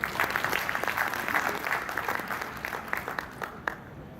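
Audience of nurses and midwives clapping steadily at an event, a dense continuous applause that holds at an even level before thinning slightly near the end.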